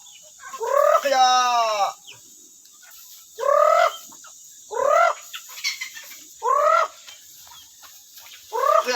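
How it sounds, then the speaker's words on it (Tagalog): Free-range chickens being fed outdoors, with close clucking calls repeating in short bursts about every second or two and a longer warbling call near the start. "Tayo magpatuka ng manok."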